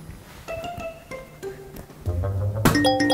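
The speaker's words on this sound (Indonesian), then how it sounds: "Wah, HP-nya bunyi nih." A mobile phone notification plays a series of bright, chiming ding and clink tones, several short pings followed by a louder, fuller chime near the end, in a quiet room with no talking.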